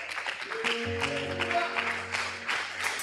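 A church congregation claps during a worship service in a mixed, moderately loud wash of applause, with sustained keyboard chords ringing underneath.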